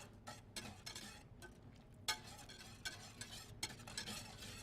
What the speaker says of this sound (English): And then whisk that butter in